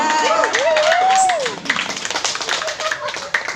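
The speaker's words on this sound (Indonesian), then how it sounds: "Tepuk tangan dulu dong." Clapping from the audience at a company leader meeting in Pekanbaru, scattered and moderately loud. Music and voices carry over it.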